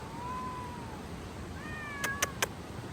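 A cat on its first time off leash at a wild camp gives two drawn-out meows, the second rising and wavering, followed by a few sharp clicks. The sounds are fairly close and clear over a quiet outdoor background.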